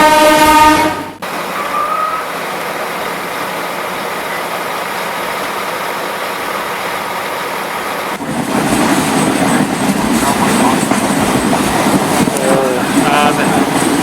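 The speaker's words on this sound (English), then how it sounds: "the original banana train that brought bananas to the port." The original banana train that carried bananas to a port in Panama rumbles and clatters past nearby, a steady rolling noise that grows heavier partway through, while people talk over it.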